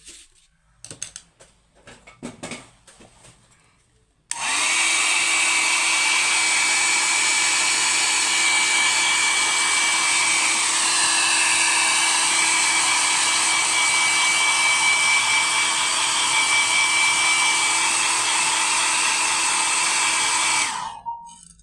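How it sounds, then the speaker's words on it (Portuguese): A loud, steady hot-air blower drying paint on a religious statue roars continuously for about seventeen seconds after a few seconds of quieter handling noises, then cuts off abruptly. "Vou acelerar rapidinho com o secador soprador."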